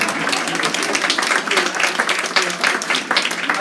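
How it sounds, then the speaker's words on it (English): A synagogue congregation breaks into steady, dense applause during a Yom Kippur service, many hands clapping close by at an even level throughout with a faint murmur of voices beneath. "You can applaud."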